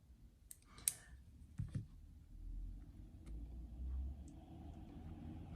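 Sharp, irregular clicks from the gears of an RC4WD Gelande II D90 catching, over a soft low motor rumble, close and fairly quiet.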